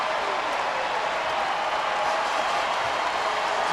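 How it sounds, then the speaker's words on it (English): Raucous basketball crowd roaring at Rupp Arena during Western Kentucky at Kentucky, a dense, sustained wall of cheering and clapping that fills the arena at a steady, loud level. "Oweh from downtown acknowledges this raucous crowd at Rupp."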